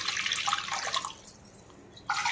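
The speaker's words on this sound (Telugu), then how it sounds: "నాలుగు గ్లాసులు నీళ్ళు వేసుకోవాలి" Water being poured from a glass into broken rice (rice rava) for pulihora, a steady splashing, running-water sound that fades briefly before resuming loudly near the end, with no talk.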